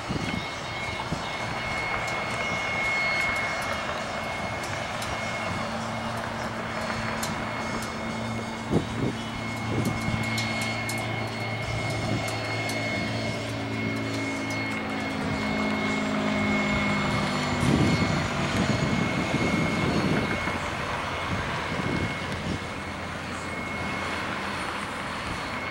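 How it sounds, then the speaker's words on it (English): A jet airplane at Addison airport builds a steady, loud engine roar over the whole stretch as it takes off, with a rising whine and low rumble swelling toward the end, heard from nearby on the ground. "waiting for this jet to take off"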